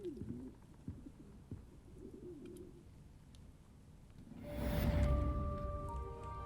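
In the video game Hogwarts Legacy, an owl arrives to deliver mail with soft cooing calls over a quiet ambience, followed by a swelling rush of wings and a sustained magical chime.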